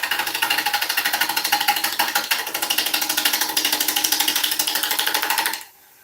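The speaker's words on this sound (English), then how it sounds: "we just let the lathe spin it" A wood lathe spins a log as a turning tool cuts a bowl, producing a loud, close, rapidly pulsing scrape that holds steady for about five seconds and then stops abruptly.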